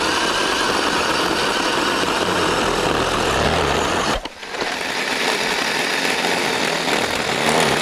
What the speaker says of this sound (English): I just put a new chain on the Black & Decker 40 volt chainsaw, so let's see how it does